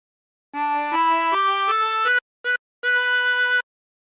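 A reedy 16-hole tremolo harmonica plays a melody, notes stepping upward in steady, sustained tones with two short breaks before a final held note.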